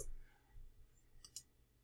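Computer mouse clicks during a software setup, two faint sharp clicks in quick succession in a quiet room with low background hum.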